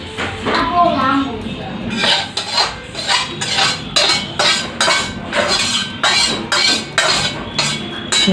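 Roasted flour for adadiya pak scooped and transferred into a vessel, a rapid regular series of metal spoon clinks and scrapes against the pot, with a voice talking at the start.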